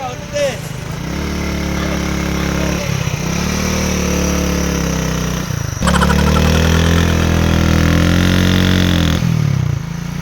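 A scooter engine runs loud and close, holding a steady droning hum. Its pitch shifts and surges several times, as if revving up and settling again.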